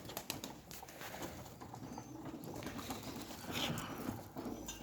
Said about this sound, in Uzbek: Mana akalar, kaptarlar.